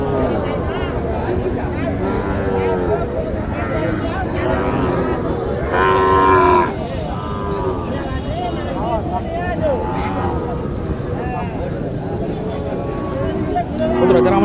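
Sahiwal heifers and other cattle at a busy rural cattle market in Naogaon, Bangladesh, lowing and mooing over constant crowd chatter and nearby talking, with a distinct moo standing out midway.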